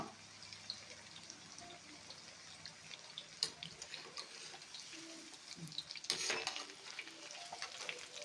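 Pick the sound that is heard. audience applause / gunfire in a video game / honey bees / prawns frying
prawns frying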